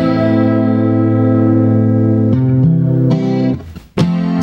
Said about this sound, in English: It's fucking natural tape chorus.